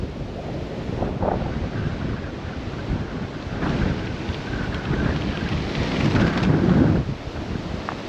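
Blizzard winds of up to 70 mph roar and buffet around a rooftop tent camp in winter, a loud continuous rumbling gusting that swells and eases with microphone wind noise.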